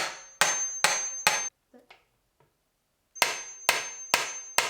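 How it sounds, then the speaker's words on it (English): A hammer strikes a hammer-driven wire crimping tool during a camper van electrical install: four sharp metallic blows, a pause with faint clicks, then four more evenly spaced, loud and close. "we have a crimping tool that works with a hammer. So we're gonna basically hammer it in."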